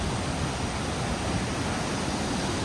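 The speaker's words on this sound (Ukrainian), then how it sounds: "Показую вам річку після дощу" A river swollen after rain rushes in a continuous dense roar of flowing water, loud and steady throughout with no other sounds.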